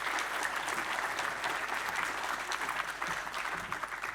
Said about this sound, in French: Allez, quelques applaudissements.